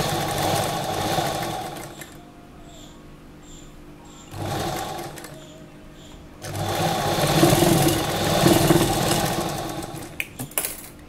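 Sewing machine stitching piping onto an Anarkali dress, whirring in three close, loud bursts of fast stitching with quiet gaps between them, the last run the longest.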